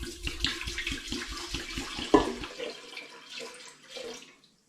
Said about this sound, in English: So I'm just going to pour half of this into the air still drum.